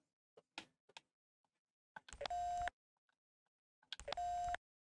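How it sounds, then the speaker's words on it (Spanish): A telephone is dialed in the X-Files PSX video game: a few short button clicks, then two long, steady electronic tones, each about half a second, separated by silence. "Vamos a llamarla por teléfono."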